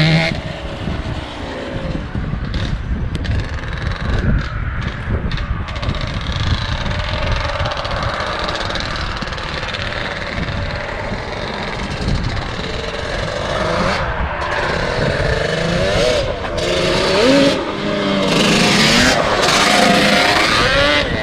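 An abandoned Yamaha Banshee's two-stroke twin engine runs on both cylinders, a loud, close, rough buzzing idle with occasional rises in pitch, continuing steadily without talk.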